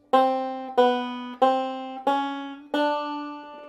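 Five plucked banjo notes step down one by one in a slow, even chromatic bass walk, each ringing bright and close before the next.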